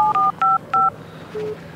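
Telephone keypad dialing during a phone call: three short, evenly spaced dual-tone beeps, then a softer, lower single tone. Close and clear, with no talking.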